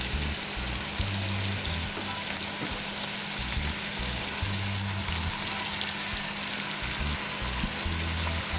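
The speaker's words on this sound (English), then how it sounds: "And then dumping in all the stuff for the sauce, which I'm going to simmer for about an hour and a half, maybe 2 hours." Vegetable paprikash sauce sizzles steadily in sunflower oil in a pan, a dense, continuous frying hiss with faint stirring, close and fairly loud, with no voices.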